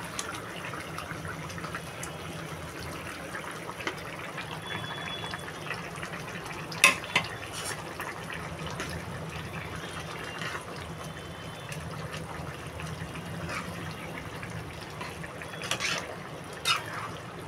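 Ground spice paste sizzling in hot oil in a potato, ridge gourd and bori curry with rohu fish, a steady dense frying hiss with a few brief stirring clinks, close and continuous with no talking.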